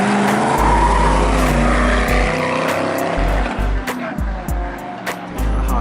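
A Tesla and a Honda Civic race around a track, engines roaring loudly and continuously with brief dips and surges as the cars pass close by, a few faint voices mixed in.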